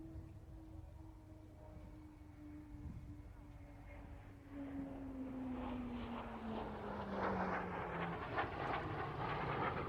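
A jet aircraft with a lengthened two-seat side-by-side cockpit roars from a distant whine to a louder rushing pass, its pitch sliding downward as it goes by, with a voice talking faintly.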